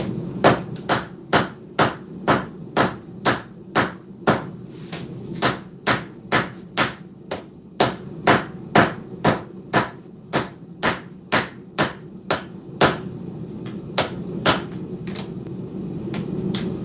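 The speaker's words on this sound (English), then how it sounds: "pull this back out, and keep forging this handle area" Steady run of loud, sharp hammer blows striking hot steel while forging the handle area of a knife blade, roughly two strikes per second with a brief pause near the end, close and clear with no talking.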